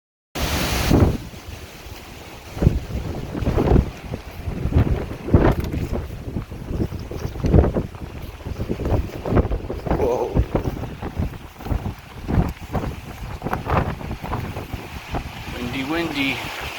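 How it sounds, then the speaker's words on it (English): Strong wind gusting across the microphone on a fall backpacking trip in the Porcupine Mountains, loud and continuous with repeated buffeting bursts and a brief voice near the end. "Windy."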